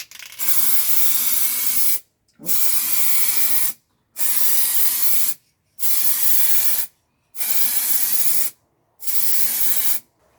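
An aerosol can sprays a coat onto a car headlight lens during restoration, in six steady hissing passes of about one to one and a half seconds each, separated by brief silent pauses, close and loud.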